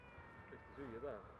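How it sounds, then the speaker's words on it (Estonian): A black cat near the DMZ border in Korea gives a few faint, short meows up close, quiet against soft ambient background and a murmuring voice. "Aga must kass, vaata, kohe esimene kass, mida ma Koreas näen, on must."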